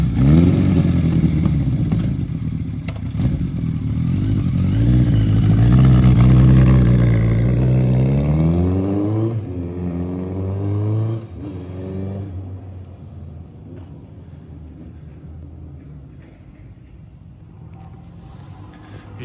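A white Kawasaki Z1000R2 Eddie Lawson Replica motorcycle engine runs close by, revving in rising and falling surges for about ten seconds before settling to a lower, steady idle rumble.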